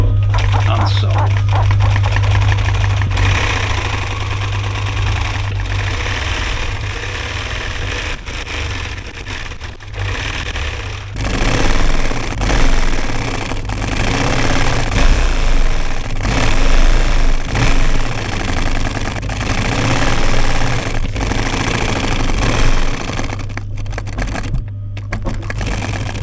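A sewing machine stitches fabric for campervan cushions, a loud, rapid mechanical clatter that runs steadily for the whole stretch, with a slight change in tone partway through and a short pause near the end.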